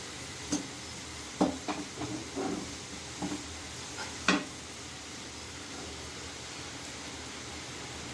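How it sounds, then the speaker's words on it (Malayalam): Dried coconut (copra) sizzles in hot oil in a pan on the stove, a faint steady hiss broken by a few soft pops and stirring clicks. "എണ്ണ ചൂടായി വരുമ്പോൾ അതിലോട്ട് നമുക്ക് കൊപ്ര,"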